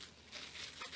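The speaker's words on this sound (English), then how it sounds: "Now I'm just going to wrap this in plastic wrap" Plastic wrap crinkling as it is wrapped around dough for Karelian pastries, a faint, brief rustle lasting about a second.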